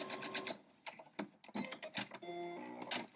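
Sewing machine stitching fabric pieces placed right sides together, running in short bursts with brief pauses and a mechanical whir, close and fairly loud.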